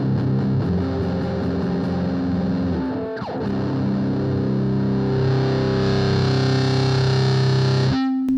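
An electric guitar played through a Sondery Metal distortion pedal, loud and sustained with thick, heavily saturated chords, a brief scraping break midway, then a held chord ending in a cut-off.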